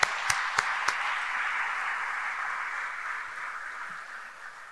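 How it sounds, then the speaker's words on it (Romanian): Sustained applause from an audience at a formal public event, a steady even roar of many hands, opening with a few sharp louder claps before settling and slowly fading slightly toward the end. "vreau să o felicit pe Larisa și să o aplaudăm împreună"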